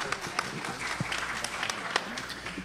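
An audience at a talk breaks into steady, dense applause, many hands clapping close by for a few seconds with no pause.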